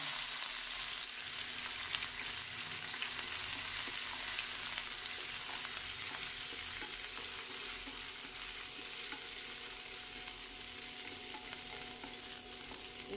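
Green chilies, onion and curry leaves fry in a pan with a steady, dense sizzle that holds evenly throughout, with faint stirring underneath and no voices.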